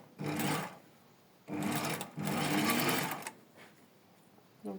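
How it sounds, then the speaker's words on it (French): A sewing machine runs a straight stitch with a short backstitch during a stapling job, in three motor bursts of about a second each separated by brief pauses, close and clear with no speech. "on fait une piqûre droite, petite marche arrière"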